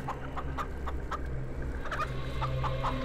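Chickens in a farm coop cluck in short, repeated bursts over a low steady background hum, fairly close and without speech.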